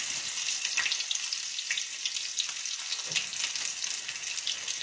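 Overheated grease, used for frying fish and onion rings, sizzles and crackles steadily, a bright spattering hiss with scattered pops, fairly quiet and continuous.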